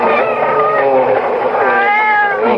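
A cat yowls and caterwauls loudly and close, one long wavering drawn-out meow with no voices around it.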